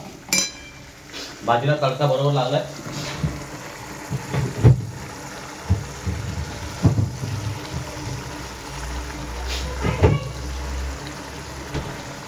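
Pav bhaji vegetables sizzle in a pan after a tadka tempering, with a steady frying hiss broken by sharp metallic clinks and scrapes of a spoon stirring against the pan, close and moderately loud.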